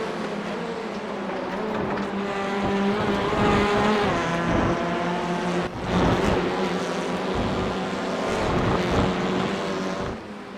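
TCR touring cars race around Donington in a sim racing game, their engines roaring loud and close, revving up and down through gear changes as the cars pass one after another, with no talk.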